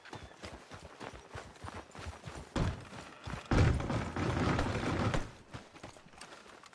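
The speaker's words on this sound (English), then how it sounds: "Are you gonna mount that new horse of yours or not?" Horse hooves clip-clop in a PS4 video game, a fast run of steady hoofbeats that builds into a louder, denser burst of galloping before easing off.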